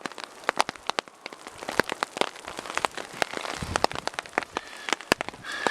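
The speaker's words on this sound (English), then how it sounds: "It's raining now" Rain falls in Southern Oregon during a wind, rain and snow storm, irregular close drops pattering and ticking on a surface, sharp crackly taps over a soft steady wash.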